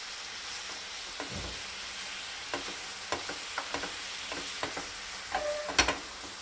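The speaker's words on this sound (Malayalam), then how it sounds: "ഒരു 1/4 കപ്പ് ശർക്കരയും കുറച്ച് വെള്ളവും കൂടി ചേർത്തൊന്ന് ഉരുക്കിയെടുക്കുന്നുണ്ട്" A quarter cup of jaggery melting with a little water in a pan gives a quiet, steady bubbling simmer, broken by scattered soft clicks and taps of stirring and one louder clatter near the end, with no talk.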